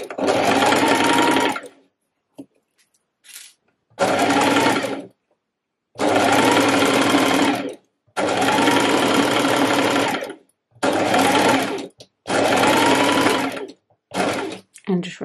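A sewing machine stitching a dress seam runs in loud, close whirring bursts of one to two seconds, separated by silent gaps while the fabric is turned, with a few very short single-stitch blips between.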